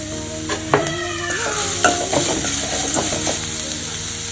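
Ginger, curry leaves and carrot sauté in a hot pan, with a steady bright sizzle and spatula scrapes and stirring clatter, close and loud.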